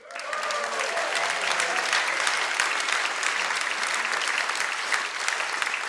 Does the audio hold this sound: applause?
yes